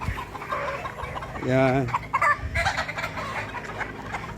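Young gamecock stags about six months old cluck and squawk close by on a fighting-rooster farm, with one drawn-out call standing out, under someone talking.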